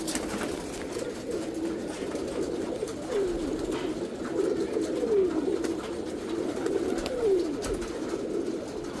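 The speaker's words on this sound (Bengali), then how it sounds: "আর কিছু নরকবুতর ডাকতেছে" Male pigeons cooing in a loft, repeated low rolling coos close by over a steady murmur of background noise, with no talk.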